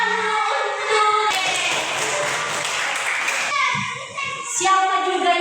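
Schoolchildren in an Indonesian classroom burst into a couple of seconds of dense clapping, framed by a teacher's voice speaking before and after.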